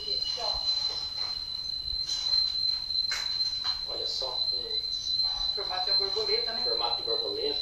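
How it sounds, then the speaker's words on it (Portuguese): A cicada or similar insect shrills continuously in a steady high whine at an abandoned house, heard throughout at moderate level over faint background noise and occasional soft sounds. "tem uma cigarra aí que tá cantando mais que a Ivete Sangalo"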